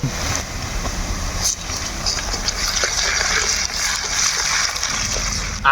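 Chopped onions frying in a pan with ginger garlic paste, a loud, continuous sizzling hiss with spattering crackles, close to the pan.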